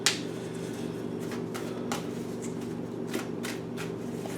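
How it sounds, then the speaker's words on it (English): Tarot cards being shuffled by hand, close and crisp, with repeated riffling bursts and soft flicks over a steady low hum, no talking. "I'm going to shuffle these a little bit"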